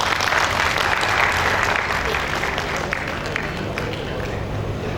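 Audience applause at a corporate customer recognition ceremony for a grain mills company, dense and fairly loud clapping that tapers slightly, with faint crowd murmur mixed in.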